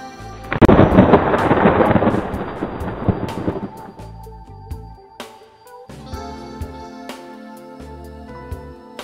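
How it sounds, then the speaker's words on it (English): Loud, close thunder follows a lightning flash, a sharp crack opening into a long rolling rumble that fades over several seconds. Scattered softer pops and a low hum continue afterward. "The bright white channel of the lightning flash only lasts a few milliseconds, followed immediately by thunder"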